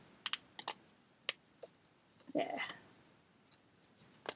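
A card has its middle cut out with a series of sharp, close snips and clicks, followed by a short burst of papery rustling, all quiet and without clear talking.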